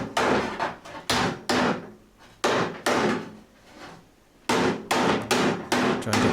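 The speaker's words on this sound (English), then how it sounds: "And then hammered over the flange." Hammer blows folding over a metal flange on a camper van bonnet corner repair; loud, close strikes in quick clusters with brief gaps, ringing slightly, no talking.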